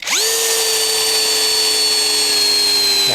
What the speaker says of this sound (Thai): ทีนี้มาเจาะเหล็ก ผมจะปรับตัวนี้นะไปที่เกียร์สองนะ